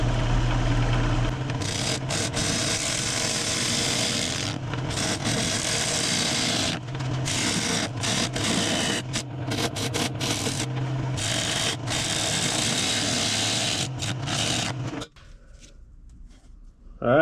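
A wooden bowl is turned on a lathe with a bowl gouge while flattening the bottom and forming a tenon, giving a continuous scraping, rumbling cut that breaks off repeatedly before the machine goes quiet near the end.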